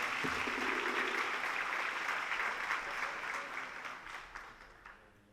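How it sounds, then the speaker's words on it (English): A crowd at a county education event applauds in steady, dense clapping that gradually thins and fades toward the end. "give yourselves a big round of applause for doing that so well"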